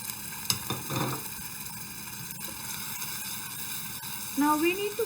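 Coconut masala sizzles in a pan on medium heat after ginger-garlic paste, a steady soft frying hiss with faint stirring scrapes and a brief tonal squeak near the end.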